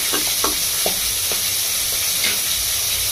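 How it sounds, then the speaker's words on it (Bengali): Rohu fish head frying in a pan, with a steady bright sizzle throughout and brief scraping strokes from stirring or turning, close and alone. "বন্ধুরা মাছের মাথাটা একটু ভালো করে ভাজবে"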